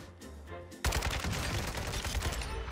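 AK rifle fire in a video game bursts in suddenly after a quiet moment, a loud rapid string of automatic shots continuing to the end.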